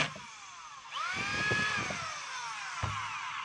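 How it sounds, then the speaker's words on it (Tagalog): A DeWalt DWD022 3/8-inch drill with a faulty chuck runs in hammer mode, first as a steady high whine and then as a louder, rattling hammer buzz with a short burst near the end, close up and with no talk. "So testing natin yung hammer"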